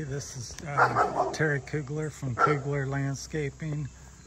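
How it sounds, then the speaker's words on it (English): A neighbor's dog barks and yips repeatedly in the background while someone speaks close by outdoors, with crickets chirping faintly underneath. "Pardon the dog in the background. Neighbor came out and is barking."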